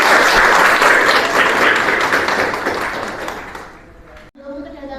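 Classroom applause from students during a lesson, a dense wash of clapping lasting about four seconds before fading, then a voice speaks briefly at the end.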